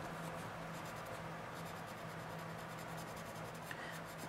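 Prisma acrylic markers drawn across good-quality paper give a steady, quiet scratchy rubbing that runs unbroken and close.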